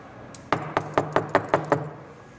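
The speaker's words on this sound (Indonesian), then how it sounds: "Mendengar ketukan pintu, Dion bergegas untuk membukanya." Seven firm knocks on a door come in a quick, even series, close and distinct against a quiet room.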